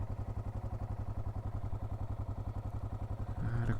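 A 1988 Yamaha Ténéré motorcycle engine thumps steadily while riding through the Amazon forest, an even low pulse with regular firing beats that rises slightly louder near the end.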